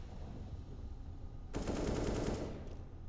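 Dense burst of shotgun gunfire in a Counter-Strike match, a loud rapid volley starting suddenly after quiet game ambience and lasting about a second before fading.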